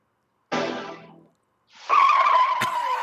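A car drives up and skids, with a brief burst of tire noise followed by a louder, sustained engine and skid sound with a sharp squealing edge, close and loud.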